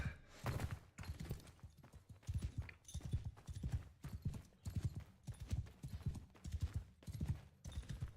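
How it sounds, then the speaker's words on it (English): Horse hooves in a video game clip-clop in a steady, rhythmic trot, about two beats per second, clear and close with nothing else over them. "I'm only little because you're on a horse"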